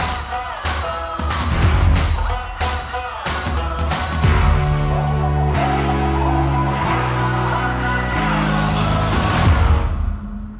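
A BMW iX3 electric SUV, model G08, hums with its synthetic drive sound designed by Hans Zimmer, a steady layered tone that shifts in pitch steps and swells, loud and close, with no talking.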